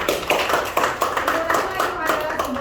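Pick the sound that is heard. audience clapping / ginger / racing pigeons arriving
audience clapping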